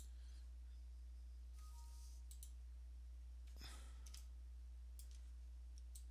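A computer mouse clicks quietly a few times during 3D modelling work, short sharp ticks spread across a faint steady hum.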